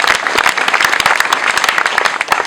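Congregation clapping during a thanksgiving ceremony for the handover of a Rotary Club dormitory and sanitation project: loud, close rhythmic clapping from a group, with sharp individual claps clearly distinct throughout.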